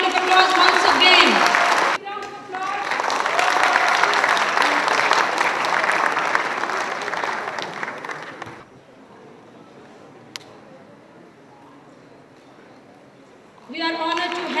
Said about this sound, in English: Give him a big round of applause once again.